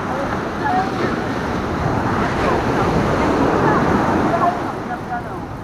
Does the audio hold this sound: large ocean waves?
yes